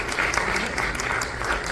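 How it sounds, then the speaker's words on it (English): Steady audience applause at an awards ceremony, a continuous wash of clapping heard close and fairly loud throughout the short stretch. "Can we have a huge round of applause for this brilliant achievement?"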